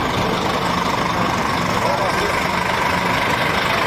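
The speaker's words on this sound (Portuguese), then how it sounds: "Agora o motor, barulho da máquina, sente aí." An Itapemirim Tribus bus engine idles with a continuous low, steady rumble and broadband hum, loud and close, with no talk over it.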